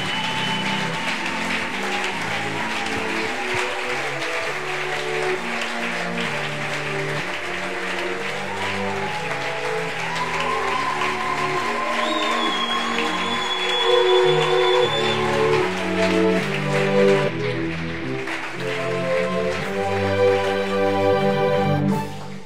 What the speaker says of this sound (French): en acclamant fort pour le Seigneur